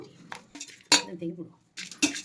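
Spoon scraping and clinking in a bowl while moong dal churumuri is mixed, a few sharp irregular clatters separated by short pauses, close and clear.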